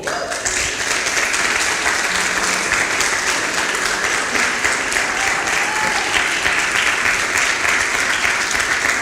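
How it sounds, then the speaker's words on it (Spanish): A church congregation keeps up dense, steady applause for the whole stretch, loud and even, with no pause and no clear voices on top. "Yo le daría un aplauso al Señor."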